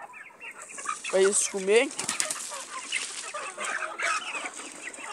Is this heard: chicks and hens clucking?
yes